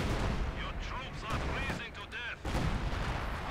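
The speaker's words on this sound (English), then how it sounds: "Katusha firing." Katyusha rocket artillery fires in Company of Heroes 2, a busy battlefield mix of booming blasts and whooshing rocket launches, with a commentator's voice talking over it.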